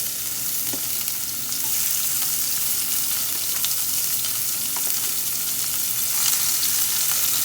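Raw peeled shrimp coated in blackening seasoning sizzle steadily in a hot pan, a loud continuous frying hiss with scattered crackles and pops and no voices.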